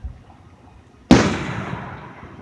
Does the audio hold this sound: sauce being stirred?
no